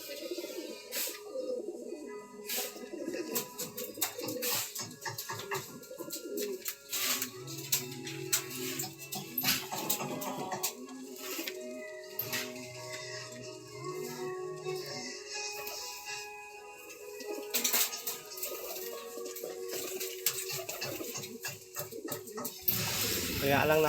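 A young white flight pigeon coos in a home loft, soft repeated coos mixed with other bird calls and background noise, while someone talks in Filipino over them.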